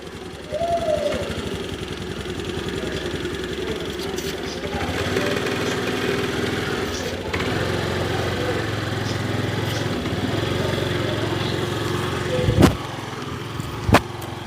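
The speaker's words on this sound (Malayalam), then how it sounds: "അങ്ങനെ മമ്മിയും സ്കൂട്ടർ ഓടിക്കാൻ പഠിച്ചു" A small scooter engine runs steadily throughout, a constant buzzing drone with a couple of sharp clicks near the end, as a learner rider takes it out.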